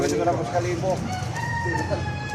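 A young purebred broodstag rooster crows nearby, its long drawn-out call rising over steady background noise on a farm, with a second shorter crow following.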